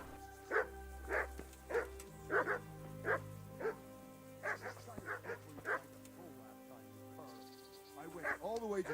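A dog in the medieval game Kingdom Come: Deliverance barks steadily, about a dozen evenly spaced yelps close by, followed by a few whiny, higher calls at the end over low game ambience.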